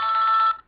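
A phone gives a single short electronic ring tone, about half a second long, loud and close, then cuts off abruptly into quiet.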